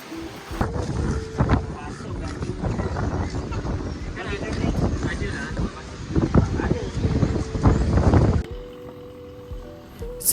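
A boat crosses the sea in stormy weather off Krabi, with wind buffeting the microphone over a steady engine drone and choppy water noise, muffled voices surfacing intermittently before the roar drops abruptly near the end.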